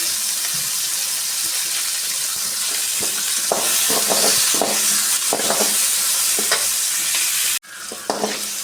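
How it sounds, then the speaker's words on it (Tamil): Onion and tomato sautéing in a pan for white vegetable kurma, a steady close sizzle with repeated scraping stirs of a spoon against the pan, a brief cut near the end. "வெங்காயம் தக்காளி நல்லா வதங்கணும்"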